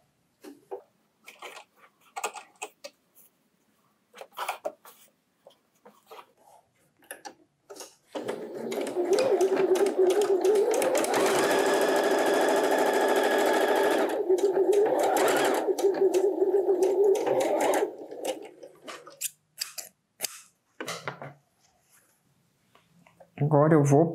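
Sewing machine stitching patchwork fabric pieces in one steady run of about ten seconds, close and loud, with someone speaking briefly before and after and handling fabric in the quieter parts.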